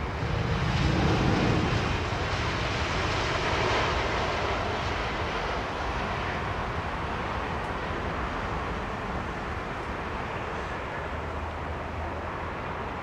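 A jet airliner arriving on runway 27R gives a steady, broad engine roar that stays loud and fairly even, swelling slightly early and then easing off a little.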